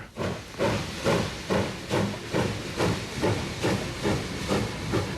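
Rhythmic bursts of steam hissing from a locomotive, roughly two per second, loud and close, with a chuffing pulse.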